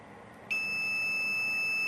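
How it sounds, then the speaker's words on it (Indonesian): An M2 Portable continuity tester's buzzer comes on suddenly as a steady, shrill, continuous beep over faint background hiss. "buzzer berbunyi"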